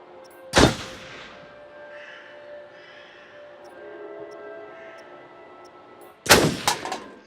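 Two sharp, loud gunshots in the Until Dawn video game, one near the start and one near the end, each with a ringing tail, separated by quiet ambient forest background.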